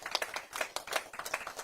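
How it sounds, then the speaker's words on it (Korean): A crowd at a political campaign committee meeting claps in welcome for a lawmaker, a dense flurry of individual hand claps close by and fairly quiet, with no voices over it. "큰 박수로 김상욱 의원을 맞이해 주시기 바랍니다"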